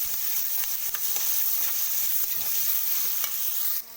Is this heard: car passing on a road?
no